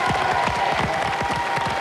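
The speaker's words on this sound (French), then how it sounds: "Quelques applaudissements pour nos deux équipes." A French TV game show studio audience applauds with brisk, dense clapping and faint crowd noise throughout.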